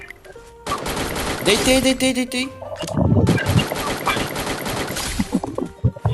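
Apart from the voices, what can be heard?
gunfire in video game Free Fire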